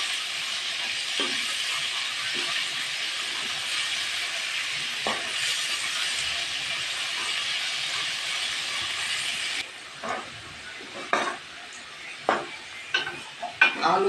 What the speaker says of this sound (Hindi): आलू फ्राई हो गए, ये निकाल दें।